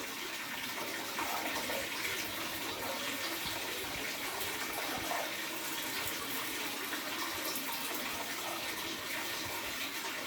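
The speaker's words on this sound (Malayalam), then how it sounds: "ഈ ഗ്ലാസ് രണ്ടാമത്തോട്ടം കുറച്ചും കൂടി വെള്ളം ഒഴിക്കണം" Continuous rushing splash of water being poured into a fish tank, steady and close, with no voices.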